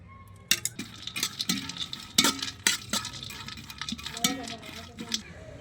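Cashews and raisins tipped into hot homemade ghee in a cooking pot, giving a run of clattering drops and light sizzling with scrapes of a utensil, close and moderately loud.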